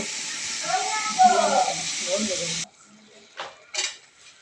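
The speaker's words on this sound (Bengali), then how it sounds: "সিম দিয়ে দিল নাড়াচাড়া করতেছে" Flat beans stirred in a hot frying pan with potatoes: a hissing sizzle with scraping for a couple of seconds under a talking voice, then it drops away, leaving a few faint clinks.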